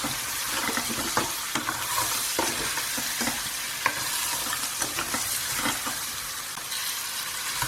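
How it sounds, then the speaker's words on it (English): Lamb and Kashmiri chilies sizzle steadily in a frying pan while a utensil stirs through them, with soft scraping knocks against the pan, close and continuous with no talking. "So mix that through nicely, let the meat absorb all that Kashmiri chilies."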